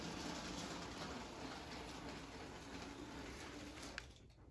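A LEGO City toy train rolls along its track through a layout, giving a steady continuous rumble and rattle that fades off near the end.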